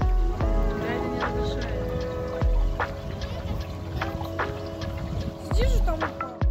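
A small boat is paddled by hand through canal water in Giethoorn, Netherlands, with soft splashes and knocks at a few points and people talking close by throughout.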